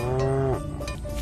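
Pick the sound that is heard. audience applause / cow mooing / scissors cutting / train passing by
cow mooing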